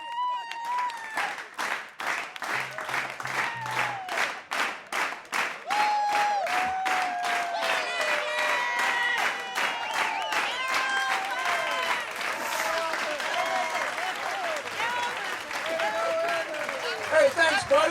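A concert crowd at a show claps, starting with rhythmic, evenly spaced claps and then spreading into looser applause and cheering while a voice talks and calls out over it.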